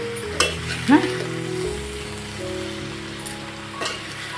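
Rishi bhaji, a Maharashtrian leafy vegetable curry, sizzles steadily in a pan while a spoon scrapes and stirs it in a few brief clattering strokes.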